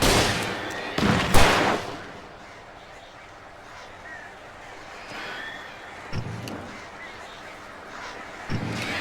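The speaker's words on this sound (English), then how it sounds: "These birds are weird." Birds in a video game chimney scene caw and flap in a loud burst near the start, followed by quieter scattered calls and rustles over a low background.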